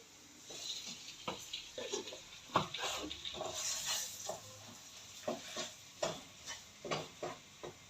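Gram flour roasting in ghee over a low flame for besan halwa, with soft, irregular scrapes and taps of a spoon stirring the thick mixture, fairly faint and steady throughout.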